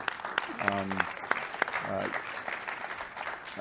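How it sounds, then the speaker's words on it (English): Applause for panelists at a discussion on primary care in Quebec, soft and somewhat distant, with a voice talking over it and a few sharper claps standing out. "a big round of applause for the panelists here"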